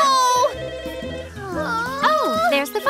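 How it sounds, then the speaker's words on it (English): Telephone ringing in an animated children's cartoon, a bright melodic ringtone mixed with high-pitched character voices and music, loud and close. "Oh, there's the phone!"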